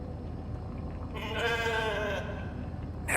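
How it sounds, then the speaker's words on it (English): A sheep in the video game The Alters gives a single clear, wavering bleat at close range over a soft ambient background, followed by a brief sharp sound at the end. "Never thought I'd be so glad to see a sheep."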